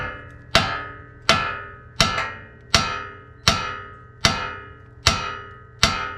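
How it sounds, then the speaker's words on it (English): Eight evenly spaced metallic clanks ring out as a hammer taps a spindle onto an upper control arm on a GX470, each sharp hit close by and trailing off in a brief ring. "when you tap this, the spindle captures the upper control arm"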